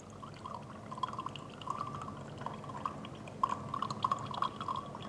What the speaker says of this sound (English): If we now acidify the filtrate, the sodium aluminate is decomposed and pure aluminium hydroxide is precipitated.